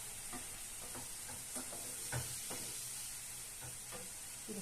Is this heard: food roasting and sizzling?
yes